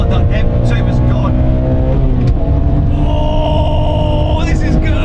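BMW M3 and M2 engines roar hard in a rolling race as an E46 M3 pulls through the gears, a loud continuous in-car engine drone climbing in pitch with a gear change midway, while someone talks over it.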